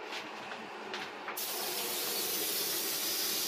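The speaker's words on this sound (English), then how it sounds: "So let me spray this quickly for you." A spray coating for printing on ceramic mugs and plates hisses out of a sprayer in a steady, continuous close burst, after a brief quieter start, with no talking.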